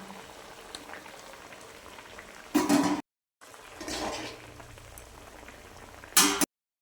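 Fried eggplant dropped into a simmering potato curry with fish, a steady bubbling boil broken by two sharp, loud splashing sizzles as the pieces hit the pot.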